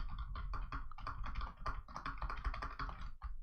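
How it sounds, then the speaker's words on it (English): Rapid typing on a computer keyboard, heard through three noise filters: a dense, continuous run of close key taps with a short pause near the end and no voices. "and I'm typing right now."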